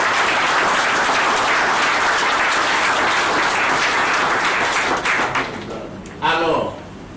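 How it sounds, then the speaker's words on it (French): A church congregation applauds to acclaim the Lord, a loud, sustained wash of many hands clapping that tapers near the end, with a brief voice or shout rising over it. "Et je voudrais qu'on acclame le Seigneur."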